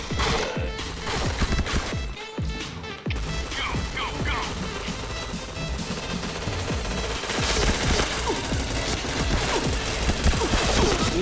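Rapid bursts of gunfire in the shooter game PointBlank, dense automatic fire with crashing impacts running almost continuously and loud throughout.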